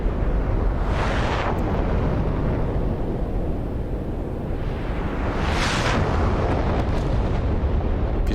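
Missile strikes blast naval ships in a DCS combat flight simulation, setting off loud, continuous rumbling explosions with two sharper bursts standing out amid a heavy, unbroken roar.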